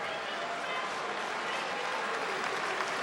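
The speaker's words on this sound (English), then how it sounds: "Hamill will get a standing O from this big crowd here tonight" A big crowd at a Cubs versus Dodgers baseball game gives pitcher Hamill a standing ovation, with sustained, steady applause and cheering.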